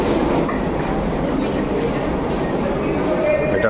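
A metro train at Chandni Chowk station in Delhi gives a steady rumbling roar with rolling clatter, close and continuous for a few seconds under faint background voices.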